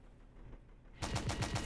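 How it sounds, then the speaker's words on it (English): Tank machine gun firing in the vehicle combat game Stormworks: after a second of low engine rumble, a rapid, evenly spaced burst of loud shots rings out close by with no talking. "Now I fired the machine gun"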